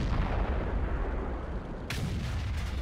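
A single enemy tank cannon shot in World of Tanks, a sharp broadband boom near 1.9 seconds rising out of a steady low rumble of battle ambience, with no talk.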